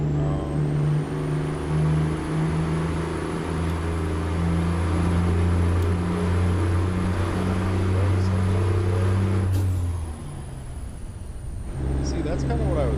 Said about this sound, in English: The truck is too loud for my mic.